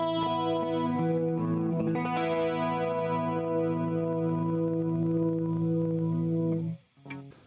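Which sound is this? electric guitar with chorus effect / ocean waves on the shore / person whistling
electric guitar with chorus effect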